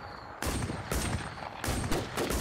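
Rapid gunfire bursts from players in the zombie survival video game The War Z, loud dense volleys in three sustained waves with brief gaps between them, no talking over it.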